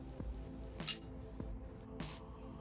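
Glasses clinking in a toast in a home living room, several sharp, bright taps spaced apart over a quiet background.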